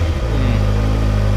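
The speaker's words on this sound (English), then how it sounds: "just listen to that engine." A 2015 Kawasaki Ninja ZX6R engine in the cold, during its break-in period, revving loud and close with a steady buzzing drone.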